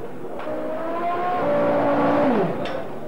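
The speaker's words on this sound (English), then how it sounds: "The engine is now warmed up prior to Nigel's arrival." A Renault Formula One engine at the 1991 British Grand Prix holds a steady high revving note that rises and then drops in pitch, close and loud, with no talking.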